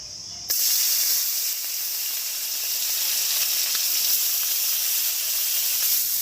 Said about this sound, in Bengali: তো তেল গরম হয়ে গেছে, এখন মাছটা দিয়ে দিই। আগে খলসা মাছটা ভাজি করি।